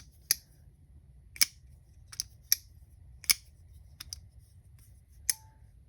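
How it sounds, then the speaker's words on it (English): A Case Marilla folding knife flicked open by its flipper tab: several sharp metallic clicks with bright ringing pings, spaced irregularly, close up against a quiet background. "I just love when knives make some kind of ping sound like that."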